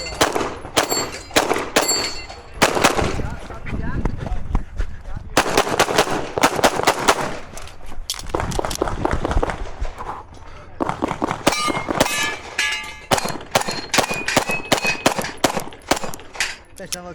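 Rapid strings of close, loud pistol gunshots with ringing metallic hits on steel targets during a USPSA practical shooting stage, fired in bursts with brief pauses between strings and faint range talk.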